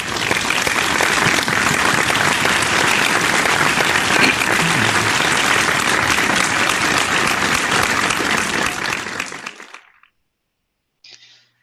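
Loud, dense applause welcomes a college dean at an online computing careers event, a steady wash of clapping that fades out and cuts to silence near the end.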